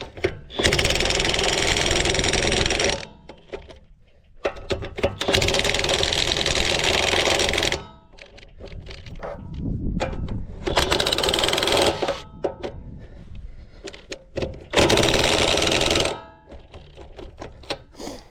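A DeWalt power tool, likely an impact wrench, tightens the wheel nuts on a trailer tire in four loud, sustained bursts of about two to three seconds each, separated by short quieter gaps with clunks and handling noise.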